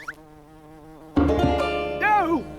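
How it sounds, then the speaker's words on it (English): A cartoon bee buzzes in a sustained, wavering drone that suddenly swells loud and dense, then rises and falls in pitch toward the end, with no talk over it. "Surely bugging a bee will only lead to trouble."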